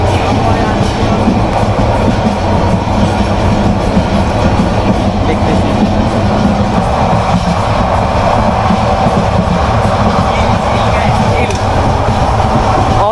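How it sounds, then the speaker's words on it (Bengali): A train rumbles past close by, a loud, continuous roar with rattling wheels and clattering carriages throughout. "এই ট্রেনটা ছেড়ে আসছে"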